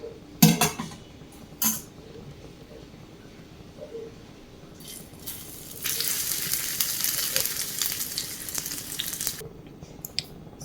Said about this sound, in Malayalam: അപ്പം ബാക്കിയും കൂടെ നമുക്ക് ഫ്രൈ ചെയ്തെടുക്കാം.